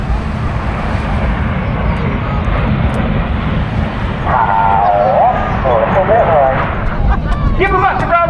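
Jet engine roar from a Red Arrows display aircraft flying past at an air show, a loud, sustained broadband rush throughout, with an announcer talking over it.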